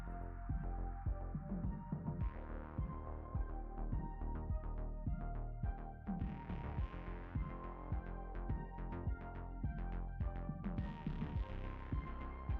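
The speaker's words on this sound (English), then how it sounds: "It's printing. And it looks like it's printing exactly what it's supposed to print." A large S1 3D printer at work: steady motor whine and hum, broken by rapid, rhythmic ticking and stepping pulses. It is close and continuous, with no talking.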